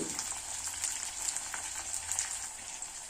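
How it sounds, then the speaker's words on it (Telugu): Green chili, curry leaves and coriander fry in a pan of hot oil, giving a steady, close sizzle with small crackles and pops all the way through and no talking. "కొద్దిగా కొత్తిమీర ఇవి లైట్గా ఒక నిమిషం ఫ్రై అవనివ్వాలి"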